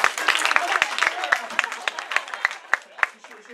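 Applause from a lecture audience, a moderate run of overlapping claps that thins out and slows, heard at a French-language conference with a voice faintly underneath.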